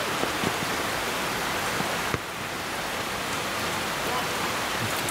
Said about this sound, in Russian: И порыв дождя был